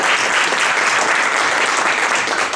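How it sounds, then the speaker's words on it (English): Sustained audience applause for a panel at an environmental talk on waste-to-value and decarbonization, loud and dense from start to finish with no voices over it. "I'd like to give a nice round of applause to this panel."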